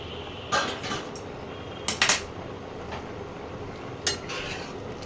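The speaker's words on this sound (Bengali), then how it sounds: "এবারে আমি ঢাকাটা খুলছি।" A metal lid is lifted off a pot of Bengali fish curry simmering on an induction cooker, giving a few sharp clanks and clinks in a quiet kitchen.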